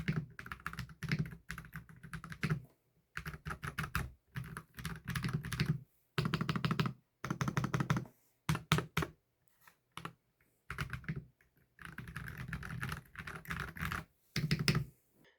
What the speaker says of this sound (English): Now I'm super excited to try typing on this keyboard.